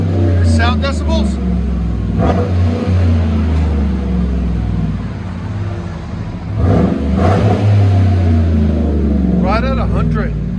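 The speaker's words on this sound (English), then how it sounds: "Cherry Bomb Xtreme. This is the muffler and tailpipe we cut off and resonator." Chevy 5.3L V8 rumbling through a Cherry Bomb Xtreme muffler, a deep loud idle with a couple of sharp throttle blips, voices talking over it.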